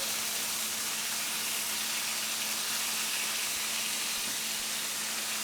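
Loud, steady sizzling of pork tenderloin frying in a pan, a constant broadband hiss with faint crackles and no talking.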